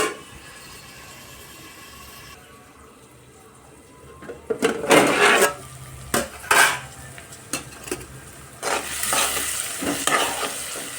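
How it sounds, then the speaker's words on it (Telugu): Tomato pieces cook in oil in a pan for a cucumber curry, with a steady sizzle broken by loud utensil scrapes and clanks against the pan. "టమాటా పీసెస్ కూడా ఆయిల్ అయితే బాగా మగ్గాయండి."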